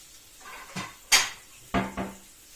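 A ceramic bowl is taken out in a home kitchen, with dishes clinking and clattering in a few separate sharp knocks, close and distinct against a quiet room.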